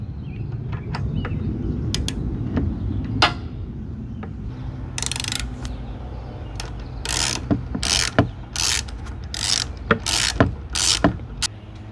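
A socket wrench with an extension ratchets on 10mm bolts on a motorcycle, giving repeated close-up clicking in bursts that turn into quick, loud back-and-forth ratcheting strokes toward the end.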